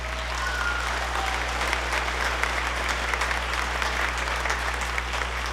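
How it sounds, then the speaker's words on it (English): Audience at a school band spring concert applauding, a continuous, even roll of clapping from a large crowd in an auditorium, moderately loud and without talk on top. "so give them one more round of applause"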